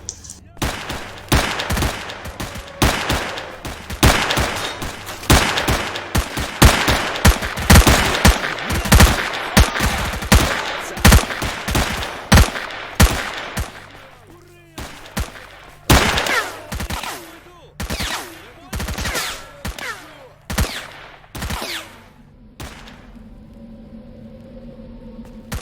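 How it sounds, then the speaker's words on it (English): Heavy gunfire from a large battle in the video game S.T.A.L.K.E.R.: Shadow of Chernobyl, with dozens of sharp, loud shots cracking in quick succession that thin out into scattered single reports and then a quieter hum. "Another enormous gun battle coming up here."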